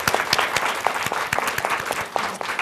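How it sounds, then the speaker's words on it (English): Applause from an audience welcoming guests onto a youth panel talk stage, dense clapping with no voices, steady and close, lasting about three seconds. "let's give them a round of applause and welcome them"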